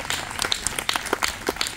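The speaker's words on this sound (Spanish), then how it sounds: "Fuertes aplausos al Señor" A church congregation applauding at a wedding service, dense close clapping from many hands sustained throughout the short burst, with no distinct voices over it.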